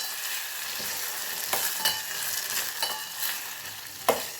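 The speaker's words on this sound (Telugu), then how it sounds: "ఇప్పుడు ఇందులోకి హాఫ్ టేబుల్ స్పూన్ వరకు జీలకర్ర వేసి ఒకసారి కలిపేసుకుందాం" Tomatoes with salt and cumin sizzle in a frying pan for tomato pepper rasam, a steady fry hiss broken by several distinct scraping stirs of a spoon against the pan.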